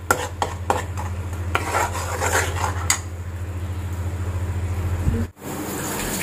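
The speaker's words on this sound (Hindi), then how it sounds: "तो थोड़ा सा हिला देते हैं" A spoon scrapes and stirs a thick spiced shahi paneer mixture in a pan, with soft repeated scraping strokes and faint clinks over a steady low hum, with no talking.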